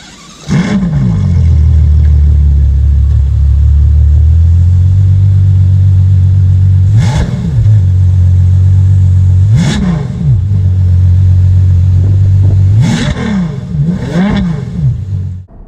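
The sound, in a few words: Ferrari GTC4Lusso engine startup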